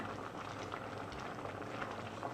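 A pot of pork bone and bamboo shoot curry at a rolling boil, giving a steady, dense bubbling and gurgling that holds close and even for the whole stretch, with no voices over it.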